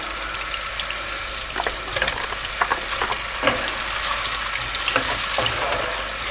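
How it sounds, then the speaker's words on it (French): Scallops sautéing in a pan for saffron and gorgonzola risotto, giving a steady close sizzle with scattered sharper pops and light stirring clicks throughout. "Je fais revenir un peu les pétoncles dans cette préparation"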